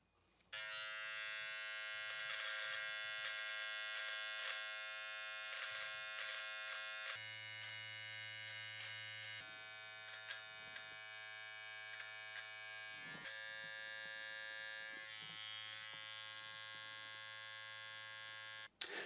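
Wahl electric trimmer buzzing steadily while trimming a horseshoe mustache, a close, continuous electric hum with slight shifts in pitch as it moves around the lip, no talking.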